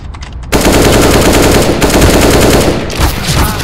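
Rapid automatic gunfire in the video game Wingman on the map Lake, loud and close, a dense continuous burst that runs almost the whole time after a short quiet start.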